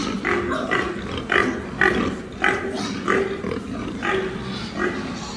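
Pigs grunt in a steady series of short, rough bursts roughly every half second, close by over a low background rumble.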